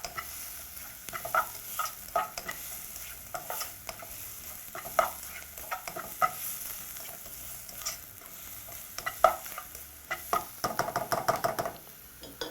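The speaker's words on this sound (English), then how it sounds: "Now proceed to saute your onions right up until they're almost translucent in color." Onions with thyme sauté in a pan, a steady close sizzle broken by frequent scraping and tapping strokes of a stirring utensil against the metal.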